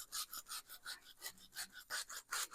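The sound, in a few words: tossing kale leaves by hand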